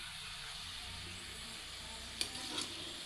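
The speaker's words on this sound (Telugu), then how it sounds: "ఈ హీట్కి ఇది ఫ్రై అయిపోద్ది." Cabbage pakoda frying in hot oil gives a soft, steady sizzle and hiss, faint and continuous, with a couple of brief sharper pops near the end.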